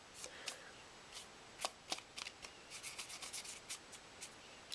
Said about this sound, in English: I use a paintbrush just to kind of brush off that extra glitter